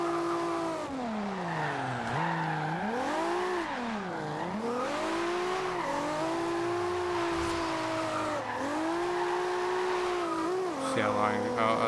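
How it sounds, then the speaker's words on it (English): Tires on a Toyota Supra squealing through a long drift in Forza Horizon 2, a loud sustained shriek that swoops up and down in pitch over the engine, continuing almost without a break. "Just roasting tire."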